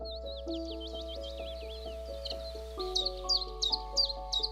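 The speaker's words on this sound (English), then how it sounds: "From March onwards through to midsummer, this area is rich with birdsong." Willow warbler and chiff-chaff song in spring woodland at a bog, clear repeated whistled phrases and chirps over a steady low hum, moderately near.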